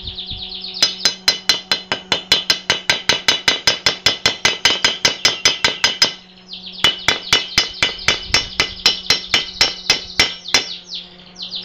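A hammer chips slag off a fresh weld made at nearly 150 amps, with dozens of sharp, evenly spaced metallic taps in a fast steady rhythm, a brief pause, then another long run of strikes, close and loud.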